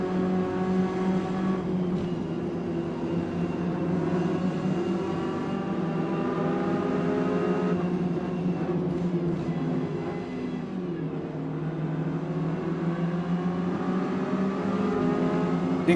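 Ginetta Junior race car engine in Forza Motorsport, revving steadily and loudly at high pitch, with brief dips as the driver lifts and other cars run nearby, no talk.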